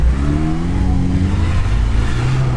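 A Lada Niva on winter studded tyres revs hard at the foot of a steep sandy slope of about 45 degrees, its engine note climbing loud and close in one sustained surge.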